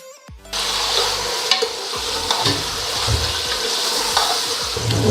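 Beef pieces hit hot ghee with garlic ginger paste for a korma, setting off a loud, continuous sizzle with scraping stirs and clinks of a utensil, no talk over it.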